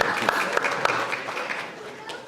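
An audience at a book launch claps and applauds in a short, dense burst, mixed with a voice speaking over it.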